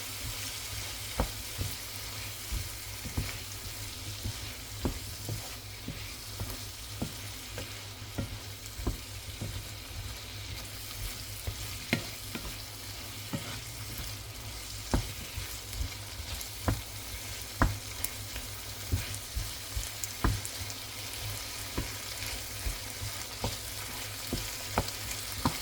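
Tomato paste and chicken fry in a pot for a one-pot chicken and rice dish, giving a steady close sizzle with frequent small crackles and pops for the whole stretch, with no voices.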